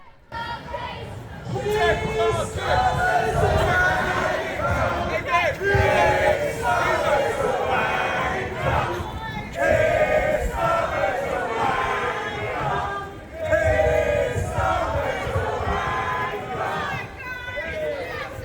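A protest crowd in Colchester chants a familiar slogan in unison, loud and close, with rhythmic repeated phrases and dense shouting voices filling the whole stretch.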